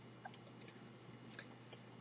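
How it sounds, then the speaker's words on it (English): Computer mouse clicks while drawing in MS Paint: a few sharp, isolated clicks spaced irregularly over quiet room noise, close and moderately faint. "You guys are going to be hearing a lot of clicking, and some of you already know what this is, but for the new ones, I use a mouse."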